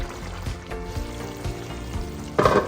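Pork ribs and potatoes braise in sauce in a pan on the stove. A steady low bubbling and sizzling runs throughout, and a louder stirring or splashing burst comes near the end, close by, with no talking.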